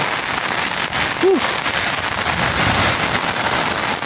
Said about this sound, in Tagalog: Lakas po ang ulan.